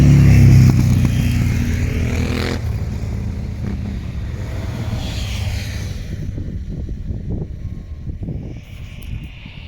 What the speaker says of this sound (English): you are going to get disturbed by motorbikes